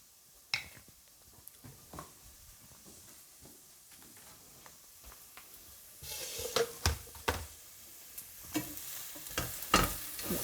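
Chilies frying in a pan for enchiladas, a quiet sizzle with scattered stirring clicks and scrapes that grows louder and busier in the second half.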